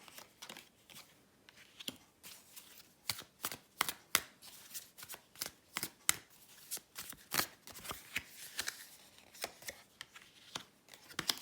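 Tarot cards are shuffled and drawn during a weekly reading: a long run of crisp, close riffling and flicking snaps in uneven bursts, with soft card slides between them and no talking.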